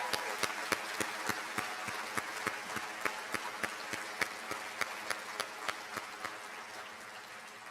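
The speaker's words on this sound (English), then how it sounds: "please join me right now in a round of applause to recognize all of those supports that you've had over the past years" Scattered hands clap in a steady, sparse rhythm at a graduation ceremony, with individual claps standing out over a quiet hall murmur rather than a full roar.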